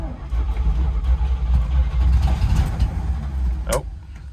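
A 1981 Pontiac Trans Am V8 runs at a rough, uneven idle, a low loping rumble that rises and falls close by, then cuts off sharply near the end.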